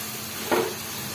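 Homemade french fries frying in hot oil, a soft continuous sizzle with one brief louder bubbling burst near the middle.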